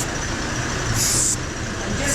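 Brake cleaner sprays onto a Honda Civic's brake disc in two loud, hissing bursts, with a constant background drone throughout.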